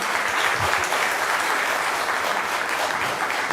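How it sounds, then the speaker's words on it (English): Attendees at a memorial lecture give a round of applause for a student receiving recognition, an even, continuous patter of many hands clapping at moderate loudness throughout. "A big round of applause for Tania."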